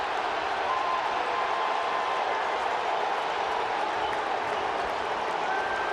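A baseball crowd in Kansas City roars steadily as both benches empty, a dense, even wash of cheering and noise with no break that holds at a moderate level throughout.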